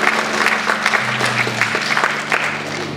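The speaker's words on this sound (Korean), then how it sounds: "뜨거운 박수로 함께" Applause from a church audience during an award presentation, steady clapping for about three seconds over a low humming tone.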